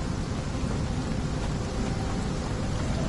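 Outdoor rain and thunder in Sherlock Holmes: The Awakened video game, a steady dense hiss of rainfall with a low rumbling undertone, constant and fairly loud.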